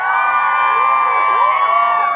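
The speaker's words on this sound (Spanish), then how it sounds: "Gritan mucho las mujeres aquí." Women in a comedy show audience screaming: loud, sustained high-pitched shrieks and cheers from a crowd, continuous throughout with no pauses.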